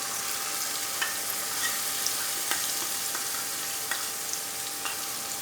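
Okra with softened tomatoes and yogurt-based spice mix frying in a pan: a continuous bright sizzle up close, with light spatula taps and scrapes scattered through as it is stirred.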